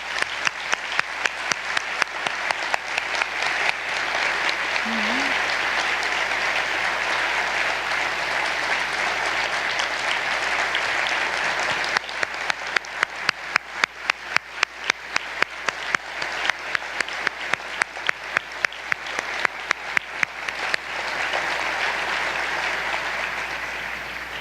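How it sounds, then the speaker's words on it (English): A luncheon audience at the 2017 Leadership Louisville event gives Ed Glasscock a long round of applause, loud, dense and sustained, with a stretch of rhythmic, more distinct clapping in the middle. "join me in a round of applause for Ed Glasscock and everything he's done for our community"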